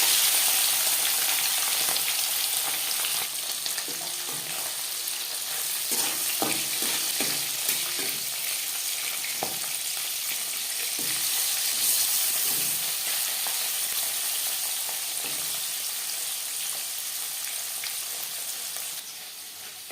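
Marinated tangra fish frying in hot refined oil, a steady dense sizzle and crackle that carries on for the whole stretch with small spattering pops, close and fairly loud, with no talk.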